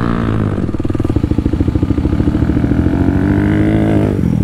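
A dirt bike rides over a jump on a trail, its engine loud and close, revving with a rapid pulsing growl that rises and then holds steady before easing off.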